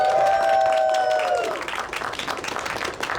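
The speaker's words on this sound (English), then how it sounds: "can we give a round of applause to Taylor for hosting the panel?" Convention audience applauding a panel host at a pony fan convention, a dense wash of clapping that starts behind a fading tone and continues steadily to the end, fairly close and loud.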